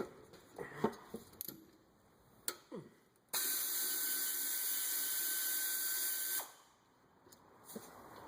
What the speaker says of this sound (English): One of the quicker ways is just to take the bottom bolt out.